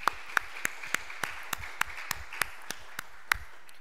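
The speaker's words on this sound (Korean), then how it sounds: "십자가 능력을 주신 예수님께 하나님께 영광의 박수를 돌려드리겠습니다" Church congregation clapping in praise after a worship service prayer, sharp separate claps ringing out at a steady pace, fairly sparse and moderately close, with no talk over them.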